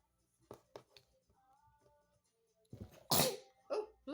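A single loud, close sneeze bursts out near the end, preceded by a few soft clicks and a quiet tonal hum.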